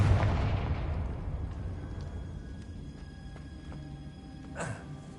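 A Confringo blasting spell cast in a Hogwarts video game, a loud booming burst at the start that rumbles and fades over several seconds, followed by a small sharp pop near the end.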